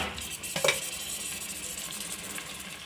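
Tomato pieces sizzling in a pan for egg biryani, stirred with a spoon, a brief scrape and clatter near the start, then a steady soft frying hiss alone with no talk.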